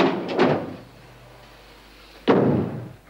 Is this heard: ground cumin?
no